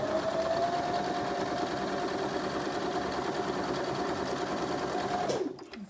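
A sewing machine stitches quilt block fabric in one steady, fast run of close, even whirring that stops abruptly near the end.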